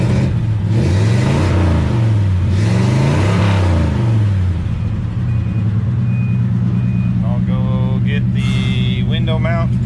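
A 1951 Chevy panel truck engine idling steadily with a low rumbling throb, then revving a little, while someone talks over it and some beeping chimes come in near the end.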